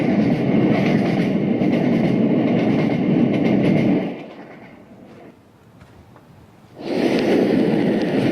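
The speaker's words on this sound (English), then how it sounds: "Join me on a train ride through the Scottish Highlands" Steady, loud rumble of a passenger train rolling through the Scottish Highlands, a dense rail roar that drops away for a few seconds to a quieter hush before surging back just as strong.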